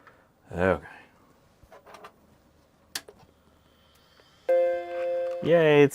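A Macintosh Classic II powers on and gives its startup chime, a sustained harmonic tone near the end that follows scattered clicks and a brief voice in a quiet room.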